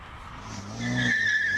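A BMW E90 races up a hill-climb course at a Cape Town speed event, its engine note rising as the car passes close, with a short squeal of tyres.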